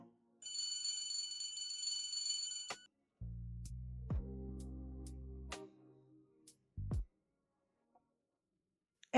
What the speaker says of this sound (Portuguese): a campainha do apartamento tocou